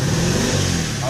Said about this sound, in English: As you can hear how the vehicle is throttling.